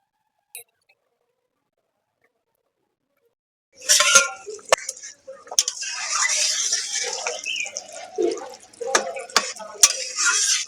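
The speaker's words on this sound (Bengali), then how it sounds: "দিয়ে দেবো জল।" Water pours into a pan of fish curry with figs, starting suddenly after near silence and continuing as a loud splashing rush, with metal clinks and spoon clatter scattered through it.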